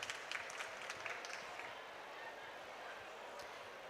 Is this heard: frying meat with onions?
no